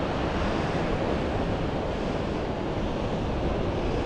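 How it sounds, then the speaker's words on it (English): Slow ocean swells break on a sandy beach while a perch fisherman is out on the shore. The surf makes a continuous broadband roar with wind noise on the microphone and no voices. "Big enough swells that it's going to stir up the sand, yet they're coming in pretty slow."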